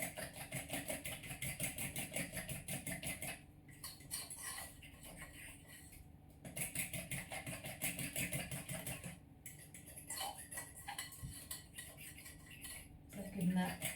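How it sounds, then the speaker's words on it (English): Low carb pasta mix being stirred quickly in a bowl, giving repeated scraping and clinking of utensil against the bowl in bursts with short pauses, close and moderately loud, with no talking. "give that a really good stir in. And you need to do that quite fast because it starts to swell"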